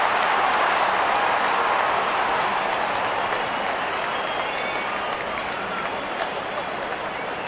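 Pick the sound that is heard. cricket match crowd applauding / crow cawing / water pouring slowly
cricket match crowd applauding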